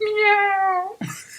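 A person imitates a cat's meow with a drawn-out, tonal mew that slides slightly downward for about a second, followed by a brief voiced sound.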